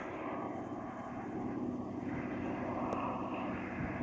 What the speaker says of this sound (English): what I can hear and what you can see here is Antonov 2 biplane